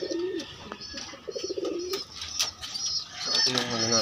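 Pigeons coo softly in a new loft, a few low, throaty coos in short bursts with faint chirps and rustling around them.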